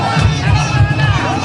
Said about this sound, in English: Crowds thronged the streets of Colombo, cheering and celebrating a long-awaited victory.